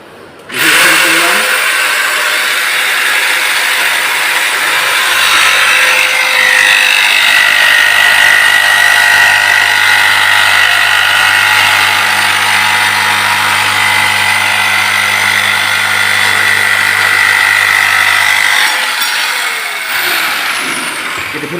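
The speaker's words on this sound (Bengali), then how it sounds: "দেখুন কীভাবে আমি অ্যালুমিনিয়াম কাটি" Jigsaw cutting through aluminium sheet as a continuous loud, buzzing rasp that holds steady for about twenty seconds before tapering off, close up and with no talk.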